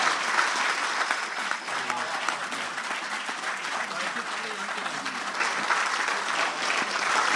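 Dense audience applause at a dastangoi storytelling performance held in a desert setting, a steady wash of many hands clapping that holds at a loud level throughout without pause.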